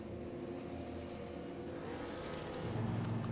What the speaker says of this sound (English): And there's cars on pit road right now. I can hear them.